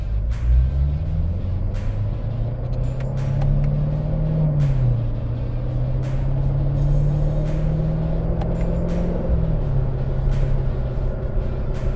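A C7 Corvette engine pulls steadily at around 2,000 RPM in third gear, a continuous close low drone from inside the car with pitch that gently rises and falls, with no talk over it.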